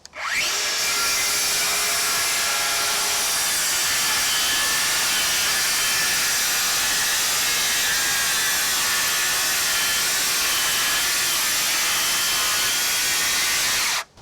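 A Dewalt Flexvolt Advantage circular saw rips through treated 6x6 lumber in one long, loud, continuous cut, the blade screaming steadily from start to finish with no pause.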